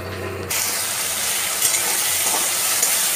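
Spice paste with tomato frying in oil and being stirred, a loud, even sizzle that jumps up after half a second and holds steady with soft scraping.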